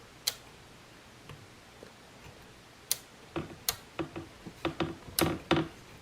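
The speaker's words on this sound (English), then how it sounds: "And you'll hear a click every time it hits a threshold." A Yamaha Tenere 700 rear shock preload adjuster being turned gives a series of faint, sharp mechanical clicks, sparse at first and then quicker and closer together, heard alone over quiet background.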